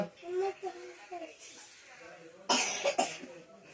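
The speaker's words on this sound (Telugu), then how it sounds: "దగ్గు వచ్చేస్తుంది." After some talking, someone coughs twice in quick succession, two sharp, fairly loud bursts close to the listener.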